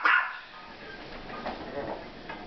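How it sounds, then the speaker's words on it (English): A Miniature Pinscher gives a sharp bark up close, followed by quieter whimpers and yips, with a person talking faintly. "Don't bark."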